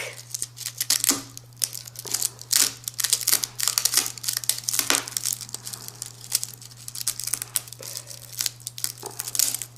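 A dried rattlesnake rattle is cut and torn apart by hand. Crisp crinkling and tearing crackles come in repeated short bursts over a steady low hum, close and fairly quiet.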